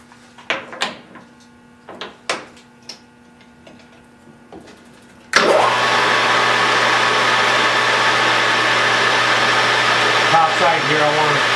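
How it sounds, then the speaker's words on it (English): Threading tool cutting a thread on a fuel tank part: a few scattered metallic ticks and clicks, then a machine starts with a sudden, steady loud whirring hum that runs alone to the end. "I'm going to use my threading tool if I can find it."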